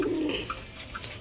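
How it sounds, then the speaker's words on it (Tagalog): Pigeons wearing club rings coo softly and close by, a low throaty call near the start followed by quieter murmuring over a steady background. "Ang gandang ibon."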